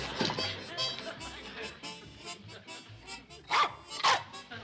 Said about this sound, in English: Stupid dog goes all to pieces in a time of crisis.